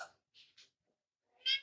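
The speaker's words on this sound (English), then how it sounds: "that was my cat complaining in the background." A cat meows indoors, faint and somewhat distant: a few short, soft mews followed by one longer, louder complaining meow.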